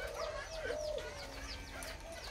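Young spotted doves feeding in a cage, with soft repeated cooing and chirpy calls over faint background noise, close and fairly quiet.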